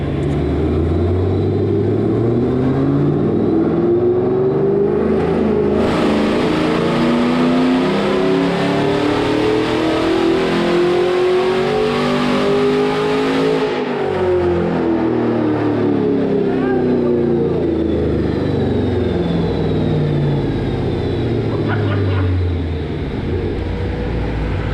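A car strapped to a Mainline hub dyno rated at 6000 HP makes a pull, its engine loud and close as it revs steadily up through the range for several seconds, peaks, then drops back, with faint voices underneath.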